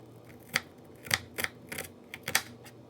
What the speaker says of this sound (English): Let's cut the onion now.